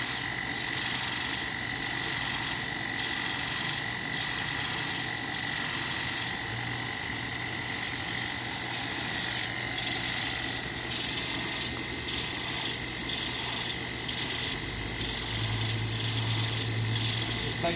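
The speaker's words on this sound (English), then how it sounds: "Now we'll go over to the big grinder, to the 2x72." A 2x72 belt grinder shapes a steel sewing awl, giving a continuous, steady abrasive hiss with a thin whining tone. The grinding stays fairly even and close throughout, with slight shifts in pressure near the end.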